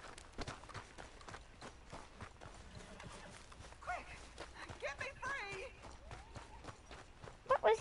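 Horse hooves clopping in the video game Red Dead Redemption, a steady rhythmic beat running under frequent talking, with a few louder sharp hits at the end.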